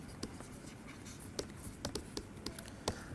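Chalk or marker strokes on a board during a physics lecture on parity and chirality, a series of short scratchy taps and squeaks at irregular intervals, fairly close, with a quiet room hum behind.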